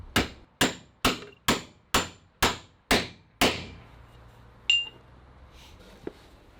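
Sharp metallic hammer blows peen a copper rove over a set while riveting planking on a wooden boat, eight evenly spaced ringing strikes followed by a pause and two lighter taps, close and loud with no talking.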